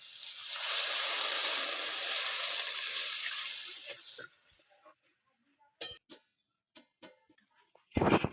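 Water poured into a pan of Bengali prawn curry with potatoes sets off a strong hissing sizzle that fades over several seconds, followed by a few light clinks of utensils against the pan.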